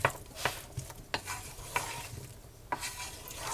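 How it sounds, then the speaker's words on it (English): Spoon stirring andouille corn chowder in a pot, with repeated scraping strokes and soft clinks over a low simmering sizzle, close and fairly quiet with no talking. "A spoon. Stir this up. Get it going."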